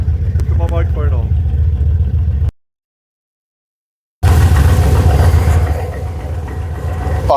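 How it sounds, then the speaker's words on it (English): A Jaguar XKR X100 engine rumbles steadily at close range, cutting out briefly into silence before returning with a rougher, louder idle, on first start after an inclination sensor replacement. "Can you hear the car going?"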